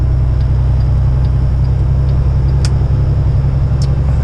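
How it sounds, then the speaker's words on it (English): A car creeps slowly along a snowy Ohio road during a snowstorm, its steady low engine and road rumble filling the cabin loudly and continuously, with a couple of faint clicks. "Just driving over the weekend very slowly towards Chicago"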